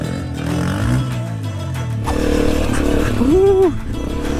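A Honda CRF250F dirt bike engine drones and revs while riding a technical enduro trail, the pitch dipping and rising with a brief rev near the end under wind noise, a rider's voice passing over it.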